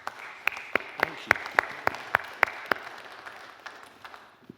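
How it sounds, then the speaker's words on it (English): Scattered clapping from a small conference audience as speakers come up on stage, a dozen or so sharp claps in an irregular rhythm that thins out toward the end. "Give them a round of applause."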